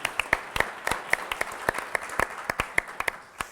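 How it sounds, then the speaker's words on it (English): Applause from an audience at a Radcliffe Institute talk on Boston's innovation economy, with sharp individual claps standing out in a steady, moderately distant patter that runs the whole few seconds without speech. "You can give him a round of applause."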